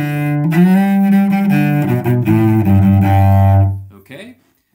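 Solo cello in a folk fiddle-tune setting plays a short chromatic ornament in a saxophone-like style, a stepwise run of bowed notes that settles on a low sustained tone and then fades out, close and unaccompanied.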